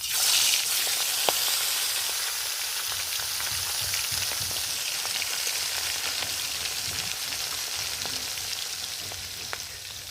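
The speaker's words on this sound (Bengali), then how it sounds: "তেল গরম হয়ে গেছে, মাছ দিয়ে দেব।" Fish, likely tangra or shing, frying in hot oil in a pan, with a steady loud sizzle and crackle that runs throughout, broken by occasional sharp pops and spatters, with no talking.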